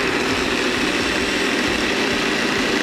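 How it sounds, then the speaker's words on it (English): A 100-year-old Black & Decker valve refacer's electric motor runs with no belt fitted, giving a steady, loud, unbroken hum and whir close by that holds constant throughout. "I can even turn it on, and you'll see it, the motor runs"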